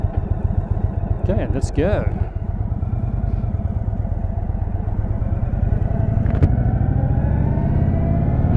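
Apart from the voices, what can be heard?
Indian Chief motorcycle riding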